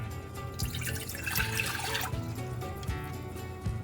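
Water splashes and trickles steadily into a bowl for crepe batter, a continuous liquid pour with faint dripping, close by and alone.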